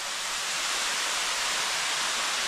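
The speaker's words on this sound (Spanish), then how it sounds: "vamos a probar el agüita de la cascada" A jungle waterfall in Colombia pours steadily, a dense, even hiss of falling water at close range with no voices.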